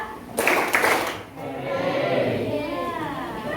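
A class of children claps a quick two-beat pattern in a classroom, two sharp bursts in close succession, followed by voices talking.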